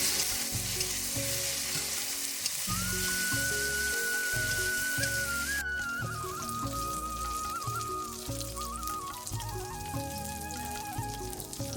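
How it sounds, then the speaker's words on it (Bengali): Okra pieces fry in hot oil with a steady, soft crackling sizzle, joined by occasional stirring and faint clinks, quiet and close with no talking. "এবার ঢ্যাঁড়সগুলোকে ভালো করে ভেজে নেব।"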